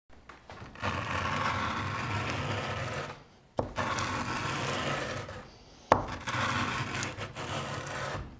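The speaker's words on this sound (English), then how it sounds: "So we're going to go back to the sandpaper now." Sandpaper worked by hand over a doweled wooden deck beam joint for a skin-on-frame boat makes close, steady rasping strokes in three long bursts separated by brief pauses.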